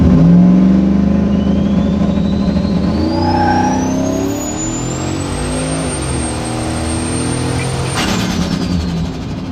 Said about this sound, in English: All that turbo whistle, it just sounds so good.